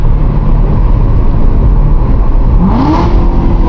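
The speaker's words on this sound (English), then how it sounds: "I'm gonna let you guys hear the stock exhaust" A Corvette C7 Z06 with its stock exhaust roars loud and close from inside the cabin, a steady heavy engine drone that rises in pitch as it revs on the downshift.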